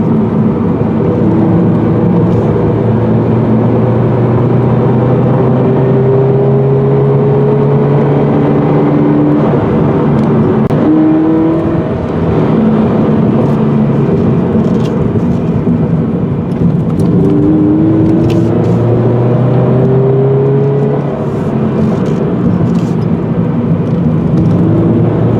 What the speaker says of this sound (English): The Toyota 86 was designed for twisty roads like this.